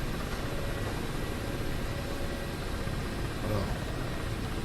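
Ka-50 Black Shark attack helicopter in the flight simulator DCS, a steady loud rotor and turbine roar filling the whole stretch without letup, while someone speaks French over it.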